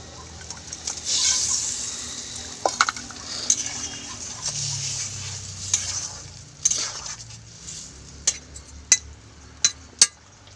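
Fried snakehead fish goes into a simmering gravy and gets stirred, with a low bubbling sizzle, a few splashes, and sharp spoon knocks against the pot toward the end, no talking.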